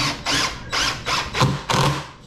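A power drill drives screws into a wooden farmhouse-style end table in five short whirring bursts that rise in pitch as each screw seats, close and loud, with brief gaps between them.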